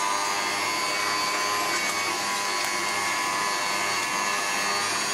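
Electric mixer beating six eggs with wet ingredients for banana bread, a loud, steady whirring motor drone that holds constant throughout with no talking.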